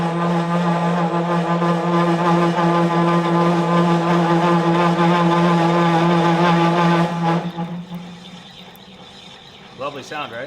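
Metal lathe turns a Blackbird razor part with a loud, steady tonal whine and grinding hum, then the cutting sound drops away, leaving quieter machine noise.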